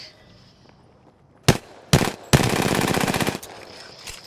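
Gunfire in the video game Apex Legends: two sharp single shots, then a loud sustained burst of rapid automatic fire lasting about a second, with a faint later shot, all without talk.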